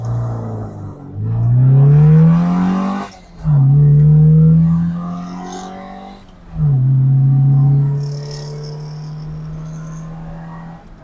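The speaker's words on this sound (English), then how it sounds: "So let's do a quick 0 to 60 and see how she gets on." Nearly 50-year-old MG BGT accelerating hard from 0 to 60, its engine note climbing steadily through three gears with brief dips at each change, loud and close throughout.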